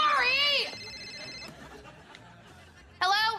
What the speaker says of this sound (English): she gets interrupted by Tori's phone ringing